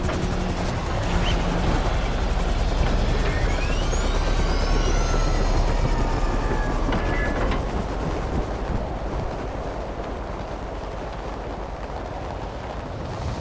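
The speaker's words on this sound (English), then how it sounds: "If I can get the helicopter to stop waddling around." A helicopter in GTA 5 Online flying steadily, a continuous loud rotor and engine drone with a low rumble and faint whining tones on top, holding level throughout and easing slightly softer near the end.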